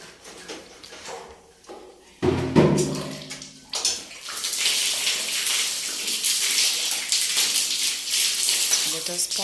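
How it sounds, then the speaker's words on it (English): Water pours and splashes into a bathroom soap dish to rinse out soap, starting after a few quiet seconds and then running as a steady close rush, with a person talking briefly at the start. "Let us pour the water to rinse it out."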